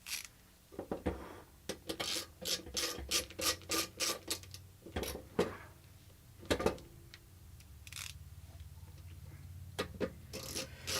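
Screws being unscrewed from the power supply of an IBM PC 5150 personal computer during disassembly: a close, irregular run of sharp metallic clicks, ticks and squeaky scraping, with brief pauses between bursts and no talking.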